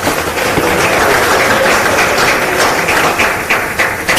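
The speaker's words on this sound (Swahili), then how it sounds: "Naomba tumpigie makofi mengi sana." Dense clapping from an audience at a Tanzanian public forum, sustained and fairly loud for a few seconds with scattered sharper claps near the end.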